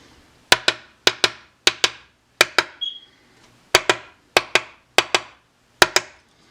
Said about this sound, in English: I'm going to use the other mallet they gave us